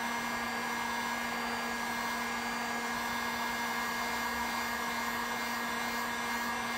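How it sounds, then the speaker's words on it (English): A heat gun warms the metal body of a 1995 Honda Acty kei truck for decal removal, giving a steady, loud, unbroken blowing hiss with a fixed hum that never changes over the whole stretch. "Heating up all the metal again."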